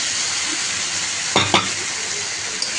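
Mutton, about a kilo, added to hot masala in a pan for a spicy curry, giving a brief low sizzle with a couple of sharp stirring scrapes near the middle, otherwise a steady quiet frying hiss.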